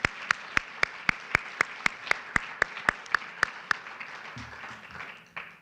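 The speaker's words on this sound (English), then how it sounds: "Can we just give a round of applause to all the speakers?" Sharp, evenly spaced claps ring out one after another in a large room at a college ceremony, about fifteen crisp strikes that then fade into quiet room noise.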